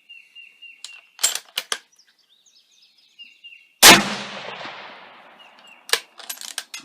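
Rifle rounds from a .223 Savage Axis firing 63gr SMP bullets striking ballistic wax at 200 yards: one loud, close report with a long decaying tail, scattered with sharp clicks and small clattering sounds before and after.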